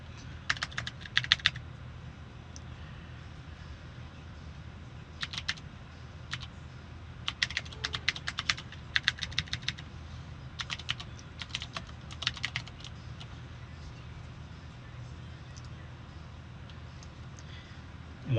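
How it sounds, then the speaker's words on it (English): Typing on a computer keyboard: irregular bursts of rapid, crisp key clicks with short pauses between runs, close and fairly quiet over a low steady hum. "Lily, I need access to my keyboard, girl."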